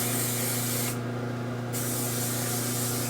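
A short burst of Frozen Stiff Beyond the Zone hairspray hisses from an aerosol can for under a second, close and fairly loud, over a steady background hum.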